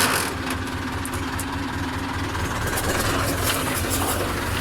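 A tractor engine runs steadily nearby, a constant low mechanical drone with a hum and vibration and no pauses.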